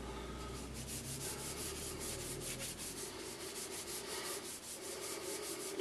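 Polish being rubbed off a handmade wooden long-stem pipe with a rag, a close, quiet, continuous rhythmic rubbing with no talk.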